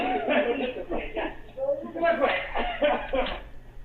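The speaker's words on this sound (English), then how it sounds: "And they're coughing because of the pepper spray." Several rough, bursty coughs and throat-clearing sounds from a few people hit by pepper spray, overlapping with muffled voices in a noisy space.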